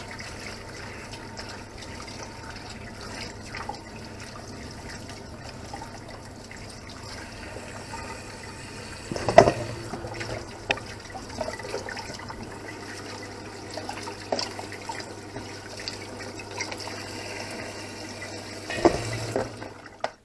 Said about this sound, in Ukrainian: Я кролика водою залив.